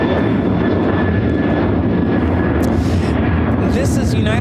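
United Airlines Boeing 737-900ER jet taking off from O'Hare bound for Denver, a loud, close, continuous engine roar that fills the whole stretch.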